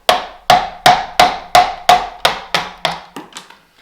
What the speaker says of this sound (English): So grab yourself a chisel. At this stage I like to use bevel downwards and start chipping the top layer off.